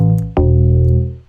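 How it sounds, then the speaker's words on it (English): DX bass preset from the Massive synthesizer: a short note, then a second sustained harmonic bass tone that starts with a sharp attack and holds steadily before fading out, alone with no talk. "So it's from Massive, and it's the DX bass preset."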